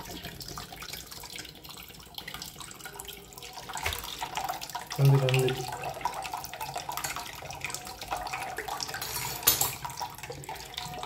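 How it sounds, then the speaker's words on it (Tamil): Water from two tender coconuts is poured out into a container, a steady close trickling and splashing that runs for about eleven seconds, with a brief spoken word over it. "ரெண்டில் உள்ள தண்ணி நம்ம எடுத்துடலாம்."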